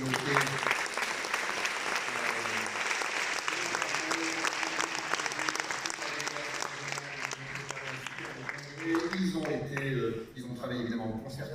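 A congress audience applauds the organising team with sustained, dense clapping, and a speaker's voice rises over the fading applause near the end.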